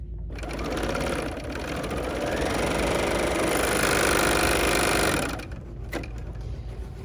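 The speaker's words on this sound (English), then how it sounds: "just serge the edge so that it doesn't have a raw edge showing" A serger whirs at high speed for about five seconds while overlocking a fabric edge for a mask, running steadily before slowing and stopping, close to the microphone.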